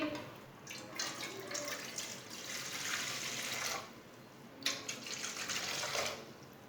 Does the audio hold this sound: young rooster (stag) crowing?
no